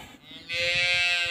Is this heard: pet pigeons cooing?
no